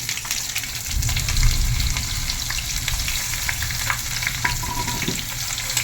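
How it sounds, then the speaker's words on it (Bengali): Chopped onion sizzles steadily in a hot pan, with scraping stir strokes and bursts of crackling frying throughout, no voices. "পেঁয়াজটাকে একটু লাল লাল করে ভেজে নেব।"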